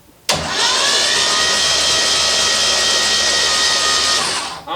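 Turbo V8 engine swapped into a Toyota Corolla cranking over on its first start attempt, a loud, steady, close whirring drone lasting about four seconds before cutting off.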